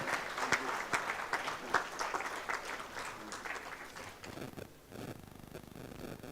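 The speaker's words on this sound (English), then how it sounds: "Please carry a loud applause for the speaker." An audience at a technical panel discussion session claps for a speaker, a dense run of hand claps that holds steady, then thins and fades toward the end.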